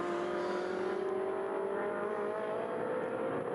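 Ferrari Challenge race cars at Mugello roar continuously in a steady, loud engine drone that climbs slightly in pitch as they accelerate toward the first corner, with no pauses.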